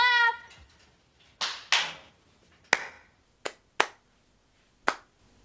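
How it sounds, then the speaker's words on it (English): Six sharp, separate claps or snaps ring out at uneven intervals in a quiet room, each crisp and close with a short decay, following a brief whistle-like tone at the start. "Okay, clap!"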